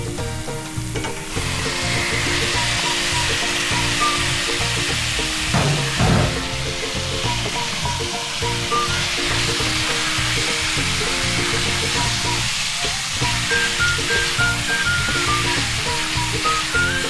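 Chicken sizzling steadily in a hot pan with garlic and onion for chicken arroz caldo, a continuous loud frying hiss with occasional stirring clatter and no talk.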